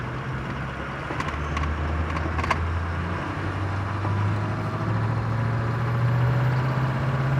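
A 2007 6.0 truck engine with a rough idle and a slight misfire runs steadily and fairly loud, with a low drone that rises slightly toward the end and no talking.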